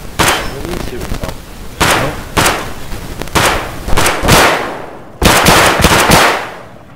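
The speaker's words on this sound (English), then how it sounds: "are you shooting from?" Gunfire in the Escape from Tarkov Factory map, loud, close bursts of automatic fire and single sharp shots repeating across the clip in uneven volleys.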